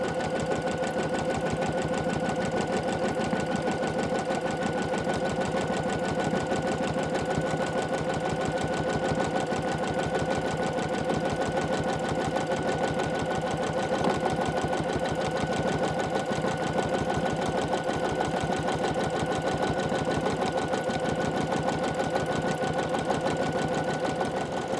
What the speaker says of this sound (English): Now it's time to do the background stitching.